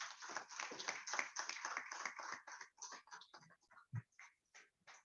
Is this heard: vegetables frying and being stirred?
no